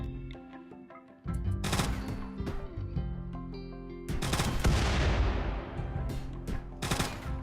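Colonists shooting in the video game Rimworld: repeated bursts of gunfire, sharp cracks and rapid volleys with an echoing tail, loud and dense from start to end with a brief quiet gap early on.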